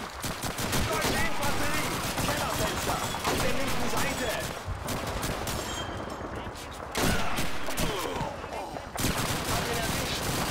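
Sustained gunfire from the World War II shooter Call of Duty 2, with dense bursts of rifle and machine-gun fire running almost continuously, loud and close, while a voice talks over it.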